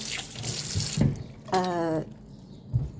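Indian bananas are rinsed under a running tap, with water splashing and trickling in short bursts and a clearer gush of flow midway, close and moderately loud.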